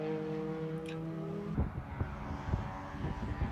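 Race cars, including an H Production Datsun, powering out of the final corner at NOLA Motorsports Park: a steady engine drone with gear-shift bursts and rising revs partway through, fairly close and loud with no talk.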